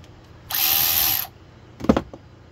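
A quarter-inch DeWalt DCF504 cordless power ratchet runs in one steady burst of about a second of high-pitched motor whine, followed by a short clicking mechanical clatter, close up with no talk.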